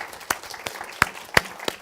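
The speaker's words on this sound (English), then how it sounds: "So we'd like to a round of applause for our panel." Scattered clapping from a conference audience applauding a panel on community health governance, a handful of sharp individual claps spaced irregularly rather than a dense ovation, moderately close.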